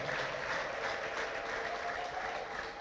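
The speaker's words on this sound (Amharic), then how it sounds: "ለረዳን ለእግዚአብሔር እልልታ ጭብጨባ እናመጣለን።" A church congregation applauding in praise, a dense continuous wash of clapping from many people, fairly distant and even throughout.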